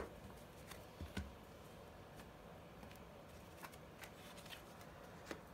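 Tarot cards being shuffled and pulled from the deck, giving soft papery riffles and flicks with a few sharper snaps, quiet and close with no talking.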